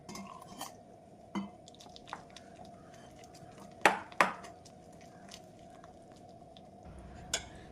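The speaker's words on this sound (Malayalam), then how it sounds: "ഇനി ആവശ്യത്തിന് വെള്ളം ഒഴിച്ച് കൊടുത്ത് ഒന്ന് മിക്സാക്കുക." A spoon clinks and scrapes sparsely against a small bowl while banana fritter batter of flour and water is stirred, with a few sharper taps near the middle and otherwise quiet surroundings.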